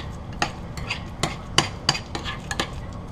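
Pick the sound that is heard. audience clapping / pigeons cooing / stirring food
stirring food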